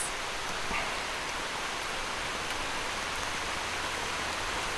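Steady, dense hiss of rain falling continuously, a constant wash of noise with no voices, a faint knock or two underneath.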